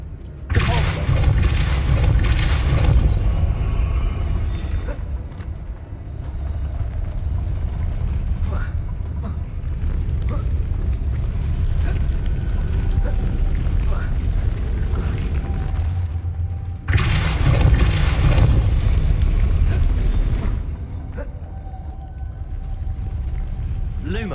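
Depulso force spell cast in Hogwarts Legacy makes two loud, rushing blasts with deep rumble, one at the start and another later, over a steady low ambient drone.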